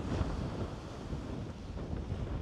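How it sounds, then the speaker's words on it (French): Strong wind at Collioure, on the coast, buffets the microphone in a continuous low, rumbling roar with uneven gusty swells and no voices. "il y a vraiment du vent de partout"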